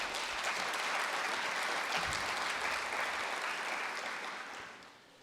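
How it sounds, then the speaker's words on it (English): An audience claps at an evening State of the System address for staff members, a dense, even round of applause that fades out near the end. "Let's give them a round of applause, please"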